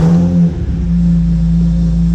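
Honda Accord with a very loud exhaust, its engine revving up and holding a steady, droning roar, close by and without voices.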